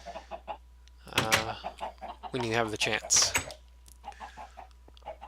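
Minecraft chickens in a survival-mode farm cluck in short, repeated bursts, quiet and steady beneath someone talking close up.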